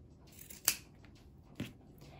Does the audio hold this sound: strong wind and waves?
no